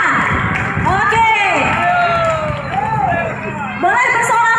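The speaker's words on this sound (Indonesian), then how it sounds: "Boleh tepuk tangan para ibu-ibu dan semangat anak-anaknya semua di sini" Mothers and children cheer, whoop and clap at a children's roller skating race in Banda Aceh, a lively crowd with shouts rising over the hubbub while an announcer talks through a loudspeaker.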